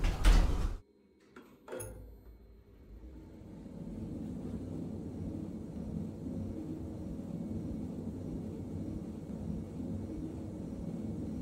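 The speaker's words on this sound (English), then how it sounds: "Going up. Doors closing." A Roblox video game elevator's doors slide shut with a loud opening thud and short rattles, then a steady low hum of the lift moving up fills the rest.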